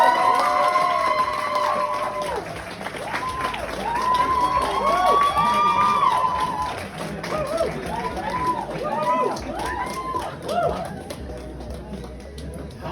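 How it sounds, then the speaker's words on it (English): A stand-up comedy audience applauding and cheering as a comedian is brought on, sustained clapping with whoops and shouted voices filling the room throughout. "please put your hands together for James"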